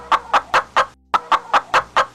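A voice imitates a chicken's clucking in two quick rhythmic bursts of short, sharp clucks separated by a brief pause.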